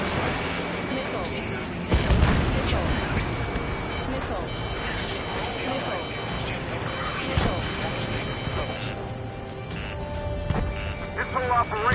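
Missile explosions from the Ace Combat 7 combat flight game, a dense barrage of booms and crashes over a steady roar of aircraft engines, with radio voices talking throughout.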